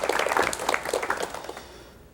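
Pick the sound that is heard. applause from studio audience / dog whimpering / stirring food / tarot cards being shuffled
applause from studio audience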